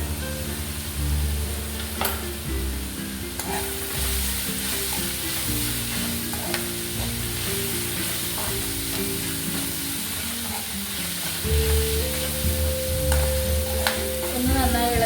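Curry leaves, ginger, garlic and green chilli sizzling in hot oil in a pan for a chicken fry, with a continuous crackling fry and occasional stirring scrapes, close and steady with no talking.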